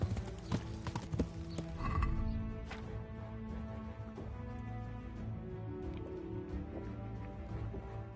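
Horse hooves clip-clopping in the medieval game Kingdom Come: Deliverance, a steady run of hoofbeats under dense game music and ambience, with a louder burst near the start.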